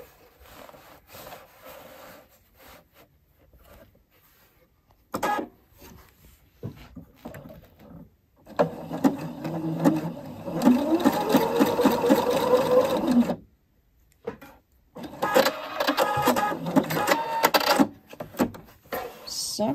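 Sewing machine sewing a button onto trousers with a zigzag stitch, running in several separate bursts of rhythmic, close mechanical whirring, the longest stretches in the middle and near the end, with quiet pauses in between.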